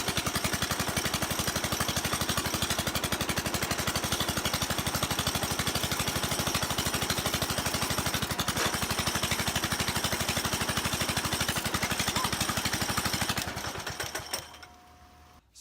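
A 1967 Cub Cadet tractor engine with a custom air filter adapter runs close by with a loud, fast, even chugging beat, then dies away and stops near the end.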